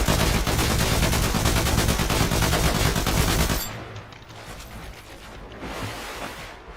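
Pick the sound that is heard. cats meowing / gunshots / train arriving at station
gunshots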